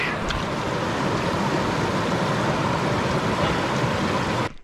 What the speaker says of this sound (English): I'm just going to clean my hands here with the gorgeous Mountain Creek.